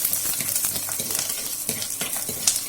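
Mustard seeds, cumin, curry leaves and garlic sizzle in hot oil while being stirred, a continuous close crackling hiss with scattered pops and scraping.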